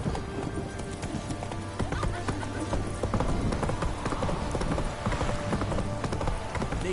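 Roach's hooves clip-clop steadily in Witcher 3, a close, continuous trotting patter mixed with voices and game ambience, with a brief whinny-like swell near the end.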